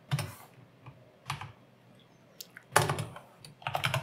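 Keyboard typing of Go code for a simple CRM project, irregular bursts of clicking keystrokes at close range, with short pauses between flurries and no talking.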